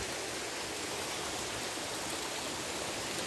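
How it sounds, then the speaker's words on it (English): A small waterfall in the Brahmagiri hills rushes in a steady, dense wash of falling water, constant and fairly loud throughout with no voices over it. "You can see this is a little waterfall and the view is very amazing."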